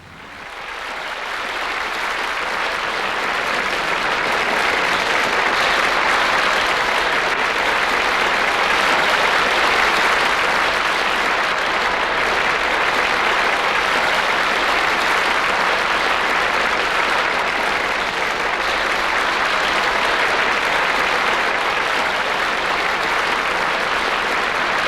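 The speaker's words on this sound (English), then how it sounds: "the crowd here today who stood and gave me a great ovation" A large crowd at a January 1985 cricket Test match in Australia gives a standing ovation, a dense, loud roar of clapping that rises quickly and holds steady for about twenty-five seconds, slightly muffled.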